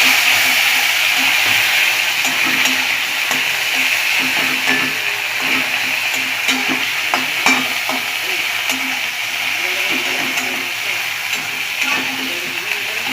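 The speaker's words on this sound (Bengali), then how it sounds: "টমেটোটা বেশ ভালো ভাজা হয়ে উঠছে" Chopped tomato fries in oil tempered with asafoetida, making a loud, continuous close sizzle with stirring scrapes at intervals.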